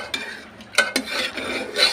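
Cooked food being mashed and stirred in a pan in a home kitchen, with a few clear metal scrapes and clinks of a utensil against the pan over soft rustling, close and alone.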